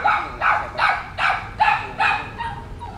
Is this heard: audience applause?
no